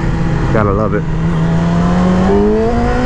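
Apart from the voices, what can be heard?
Yamaha R6 motorcycle engine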